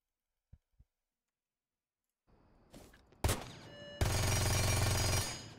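Vector submachine gun in Rainbow Six Siege: a couple of faint clicks, then a short burst and a loud, dense stream of rapid automatic fire that holds for well over a second before tapering off.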